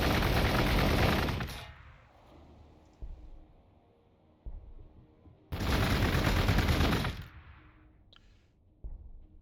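Two long bursts of rapid automatic gunfire in the Warhammer 40,000: Gladius strategy game, loud and dense, each fading into a low rumbling tail, with a few single thuds between.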